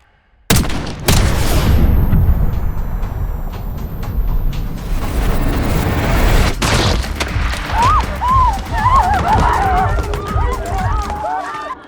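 A single sharp gunshot rings out near the start of a Call of Duty Black Ops 6 story mission, followed by dense game ambience, rumbling effects and a voice speaking later in the scene.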